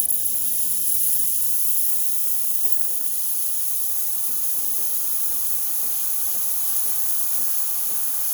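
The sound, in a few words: Breville espresso machine steam wand hissing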